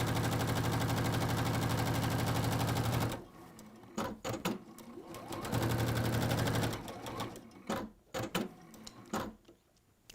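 Sewing machine stitching fabric in a home textile session, running in a steady continuous burst for about three seconds, then stopping, then short stop-start bursts and another sustained run, close and fairly quiet.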